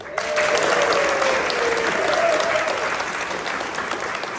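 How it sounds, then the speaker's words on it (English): Audience applause fills the hall at a literary competitions awards ceremony, dense and steady throughout, with a faint tone running beneath the clapping. "We're going to give them the biggest applause we ever had in our life"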